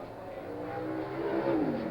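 Can-Am race cars at Mid Ohio in 1971, Jo Siffert's 5-litre Porsche being overtaken by Peter Revson's 8-litre McLaren, a steady engine roar that swells and rises in pitch as the cars pass nearby.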